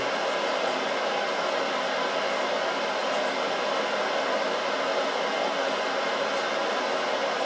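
A Grizzly G0752 milling machine spindle runs on its test run while its speed is lowered, giving a steady, close, continuous motor whine and airy hiss with no voices over it.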